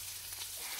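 Wild jelly ear mushrooms fry in a pan with a steady, soft sizzling hiss that stays even throughout the brief moment, with no voices.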